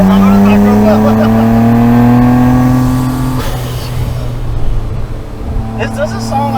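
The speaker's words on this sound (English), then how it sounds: "It's a super sequential blow-off. Is it just a HKS blow-off, or is it not the super sequential?" A Millennium Jade Nissan Skyline R34 GT-R M-Spec Nür with an HKS sequential blow-off valve drones loudly with engine tone. Its pitch falls, then the drone cuts to a sharp broadband hiss of released boost. A fainter whoosh follows near the end.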